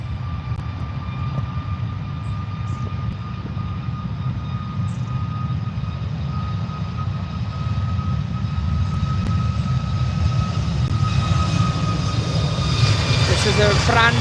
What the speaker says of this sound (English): This is a brand new Ryanair off to Bologna